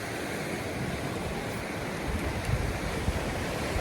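Steady broadband wash of surf rolling onto a free public seaside beach, continuous and fairly loud with a slight swell near the end, no voices.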